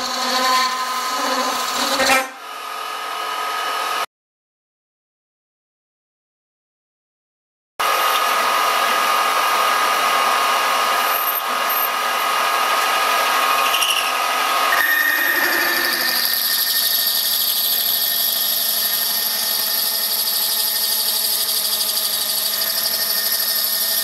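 A metal lathe removes material in a home workshop, its small electric motor struggling for power; a steady, loud whining machining tone runs almost continuously, broken once by a few seconds of silence, with no talking.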